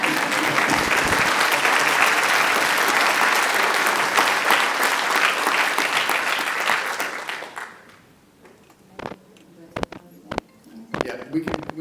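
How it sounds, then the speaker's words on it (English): Loud, sustained audience applause at a parents' community forum on a heroin crisis, dense clapping for about eight seconds before fading to scattered claps and quiet room noise. "I think we need to give you a round of applause for that."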